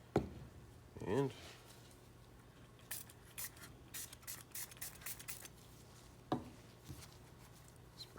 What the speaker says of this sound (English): spray some activator